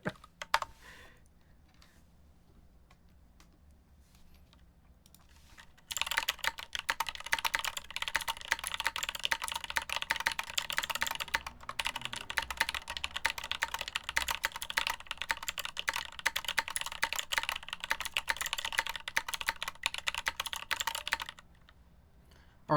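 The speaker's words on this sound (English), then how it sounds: "This sounds amazing with one clicky switch." A mechanical keyboard with clicky switches typing rapidly and continuously for about fifteen seconds after a quiet start, a dense stream of close, sharp clicks that stops abruptly.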